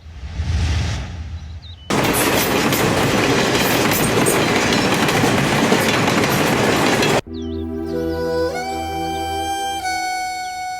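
Train at Borra railway station, a loud steady rumble and clatter of carriages running past close by, followed by a sustained tonal horn or whistle.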